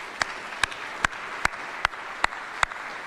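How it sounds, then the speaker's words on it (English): Single sharp claps at a military retirement ceremony, about seven of them spaced evenly at a slow, steady beat, with nothing else in between. "let's give her a big round of applause."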